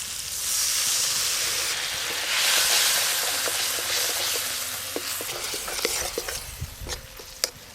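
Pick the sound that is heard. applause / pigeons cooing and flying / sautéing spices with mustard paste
sautéing spices with mustard paste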